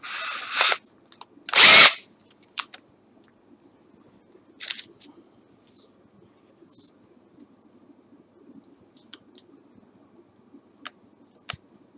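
Power drill boring into an e-bike fork, two short bursts of whirring, the second longer and louder, followed by quiet clicks and light handling noises with scattered ticks.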